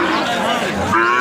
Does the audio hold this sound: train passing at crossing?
no